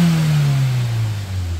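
A Daihatsu Terios engine revs from around 3000 up toward 5000 rpm, then the throttle drops off and the pitch slides steadily downward as it winds back, a close, loud mid-pitched drone alone.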